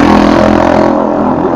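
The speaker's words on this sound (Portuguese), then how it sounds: "Muito alto essa moto" A loud motorcycle engine roars close by, rumbling and revving steadily, then eases off slightly as it passes.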